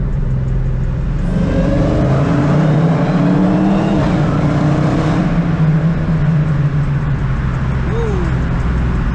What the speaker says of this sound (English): this is a pull in my Zoomer'S exhaust